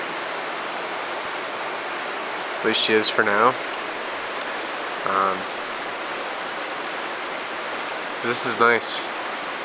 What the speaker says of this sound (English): we're just gonna chill and listen to the river.